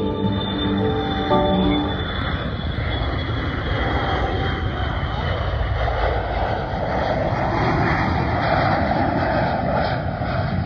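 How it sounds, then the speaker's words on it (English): An airplane on a runway near an air museum gives off a loud, steady engine roar close by, with a brief whine at the start and continuous broadband rushing noise throughout. "That's the runway area where all the planes take off from."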